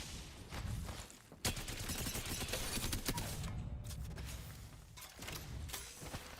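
Hip-fire gunshots in a video game shooter, several sharp, close shots standing out against a constant busy background of game noise, irregularly spaced with a brief pause between bursts.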